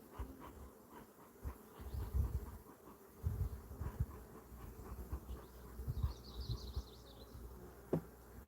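Honeybees buzz steadily at an opened hive of young nurse bees, a dense, agitated hum that stays up close and constant, with occasional knocks and rustles on top.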